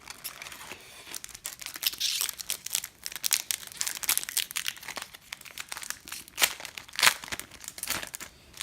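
Crinkling and tearing of a foil Magic: The Gathering booster pack wrapper from Guilds of Ravnica, close and continuous, with bursts of sharp crackle and rips rising and falling over several seconds, no voice.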